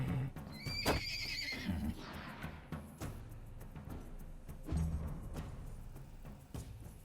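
A horse in the medieval video game Wartales gives one loud, close whinny early on, followed by quieter hoof and ambient game sounds with no talking.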